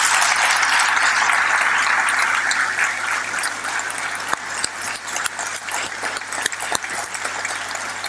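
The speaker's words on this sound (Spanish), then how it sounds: "Por favor, otro fuerte aplauso para él." An audience at a lecture on science and the resurrection of Jesus applauds a chemist, a dense, steady wash of many hands clapping that thins into scattered individual claps toward the end.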